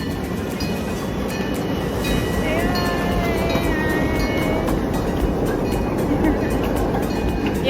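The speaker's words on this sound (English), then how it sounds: "little choo-choo train that goes to the park" A small park train rumbles past nearby with a steady mechanical clatter and a faint high squeal, while people talk over it outdoors at a Japanese festival in Houston.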